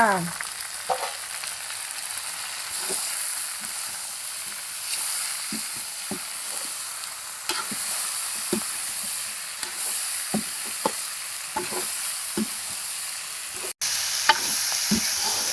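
Catfish stir-frying in a wok with dried chili and holy basil for a Thai kaphrao dish gives a steady loud sizzle throughout, with scattered clinks and scrapes of stirring and no voices.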